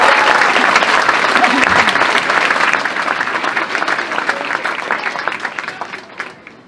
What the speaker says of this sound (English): so round of applause for Brigid